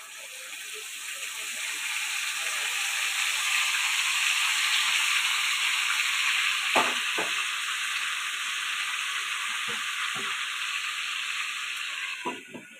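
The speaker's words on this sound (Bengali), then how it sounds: "এইভাবে আমি বাকি যে চিকেনগুলো বাকি আছে আমি সবগুলো ভেজে নিচ্ছি।" Chicken pieces frying in oil make a continuous broad sizzling hiss throughout, steady and fairly close, with a few faint clinks and knocks from the pan scattered on top.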